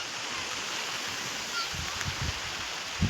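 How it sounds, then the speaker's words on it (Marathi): Steady rain falls on a garden of tomato plants in flower, a constant broadband hiss that fills the whole clip, with a few soft low thumps near the end. "पाऊस चालू आहे."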